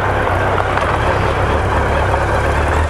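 A Honda CB1300SF motorcycle engine runs with a dense, steady low rumble, loud and close, holding an even drone throughout without talk.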